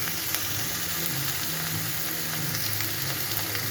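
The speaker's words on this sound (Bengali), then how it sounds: "সর্ষের তেল দিয়ে, শুকনো লঙ্কা, তেজপাতা ফোড়ন দিয়ে পেঁয়াজগুলোকে ভাজবো।" Onions and capsicum frying in mustard oil with dried red chilli and bay leaf, a dense, steady, close sizzle with faint crackles and stirring scrapes throughout, and no talking.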